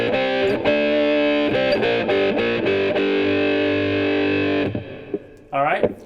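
Electric guitar with heavy distortion and reverb, dialed toward a particular signature tone with reverb as the last pedal, plays loud sustained chords and riffs, then fades into a short ringing phrase.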